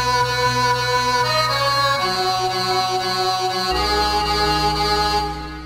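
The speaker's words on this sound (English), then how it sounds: "It sounds like a distorted beep." A loud, buzzy electronic tone with harsh overtones, dropped an octave, steps through a few sustained pitches, sounding like a distorted synth beep that fades at the end, from a recreation of a song.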